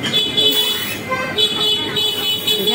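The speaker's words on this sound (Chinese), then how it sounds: "这里的特色就是喇叭" Car horns honk on a busy street in Xiamen, China, with several sustained, overlapping toots over steady traffic noise, loud and close.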